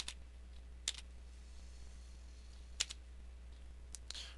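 Slow one-finger typing on a computer keyboard, with a few isolated, sharp key clicks spaced irregularly over a quiet, faint background hum.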